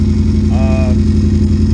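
Kawasaki Vulcan motorcycle engine idling steadily with a loud, continuous low throb and a faint rattle inside, while a brief voice-like tone rises over it partway through.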